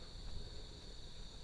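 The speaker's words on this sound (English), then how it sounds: "While I just enjoy the lapping of the water, the cicadas." Cicadas buzz at night beside lapping water at a clifftop campsite, a faint steady high drone over soft broadband hiss that holds unchanged throughout, with no voices.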